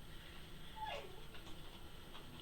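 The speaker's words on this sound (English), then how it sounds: "You can hear Eric the dog because he's out in the garden." A dog whimpering outdoors in a garden, one faint rising whine in the middle of the clip over steady background hiss.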